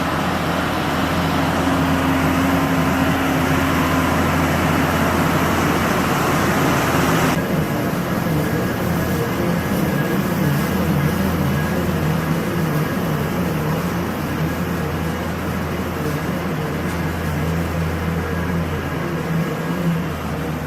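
A farm tractor engine drones steadily while spreading sand into cow free stalls, a constant low rumble with a noisy hiss that shifts and quietens slightly partway through, with no talk.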